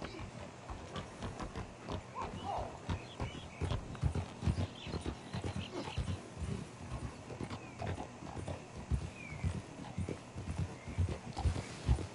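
Horse hooves clip-clopping in the video game Red Dead Redemption 2, steady rhythmic hoofbeats up close at a walking pace, with faint talk in the background.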